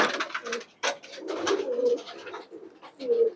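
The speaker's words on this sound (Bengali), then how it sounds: "একজোড়া বোম্বাই কবুতর।" A pair of Bombai pigeons in a backyard loft coo close by, soft throaty rolling calls repeating in uneven bursts with brief gaps, no talking.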